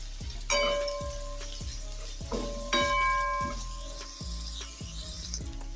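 Spices including Kashmiri chili powder sizzle and fry in a pan for an aloo gobhi matar curry, a steady close hiss with repeated scraping clinks of a spoon stirring through it.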